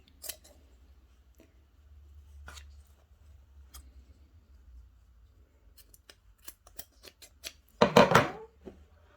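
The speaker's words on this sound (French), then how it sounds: "je viens de cranter les surplus de couture" Scissors snip through fabric seam allowances on a dress, a run of crisp, close cuts building to a louder cluster of snips near the end, with no talking.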